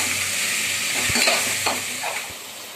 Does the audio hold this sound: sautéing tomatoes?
yes